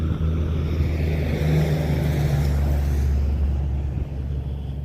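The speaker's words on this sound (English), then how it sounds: "That was a truck." A truck rumbles past on a road beside an abandoned waterfall park in Rodanthe, North Carolina, its low engine drone steady and fairly close before fading slightly at the end.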